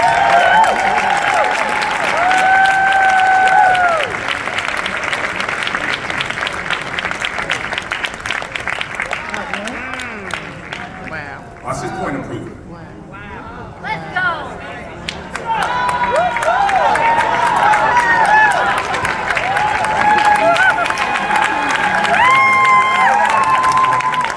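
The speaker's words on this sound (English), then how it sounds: "Give a round of applause to all of our ringers." An audience at an event applauds the ringers, with sustained loud clapping, cheers and some children's shouts that dip briefly in the middle before surging again.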